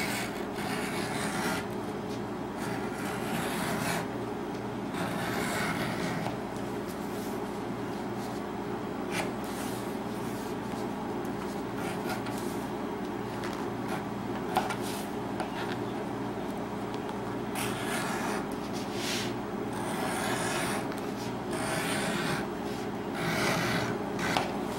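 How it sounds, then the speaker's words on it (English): An edge beveler scrapes along the edges of a leather sheath in steady, close rasping strokes that continue without a break. "I'm just simply going to take my edge beveler now, and that's all I'm going to do is I'm just going to bevel my edges."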